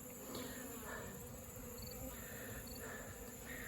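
Dense, steady buzzing of many honey bees around an open beehive, close and continuous, with faint pitch shifts as bees move nearby.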